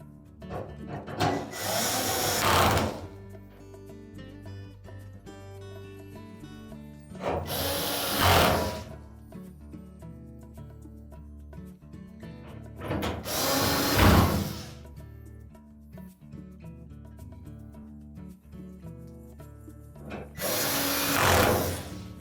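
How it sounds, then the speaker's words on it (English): A power drill drives retaining screws into an LG dryer cabinet in four separate bursts of a few seconds each, whirring up and ending in a ratcheting buzz, with quiet gaps in between. "And we'll put the retaining screws in."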